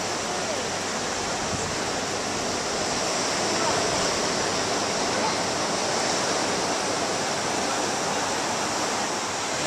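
Ocean surf breaking near rocky tide pools, a steady broadband wash of water that rolls on without pause, close and fairly loud, with faint voices of people nearby beneath it.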